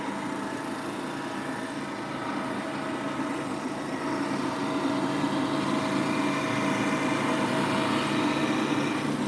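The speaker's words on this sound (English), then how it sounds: "this is a brand new 30-year-old drum sander" An old drum sander runs with a steady motor drone and a broadband whir that grows slightly louder partway through, heard close and continuous with no talking.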